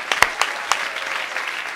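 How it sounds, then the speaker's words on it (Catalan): A television studio audience applauds, opening with a few sharp, separate claps that blend into a short burst of steady clapping and then fade. "aquest aplaudiment per vosaltres"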